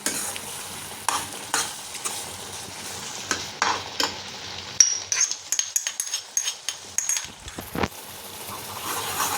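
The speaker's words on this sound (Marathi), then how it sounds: "मी त्यात आता हे ड्रायफ्रूट्स घालतीये, म्हणजे ते सुद्धा छान शिजतील." Dry fruits being stirred into carrot halwa cooking in a pan: a steady soft sizzle under repeated scraping spoon strokes and sharp clinks against the pan, close and alone, with no voices.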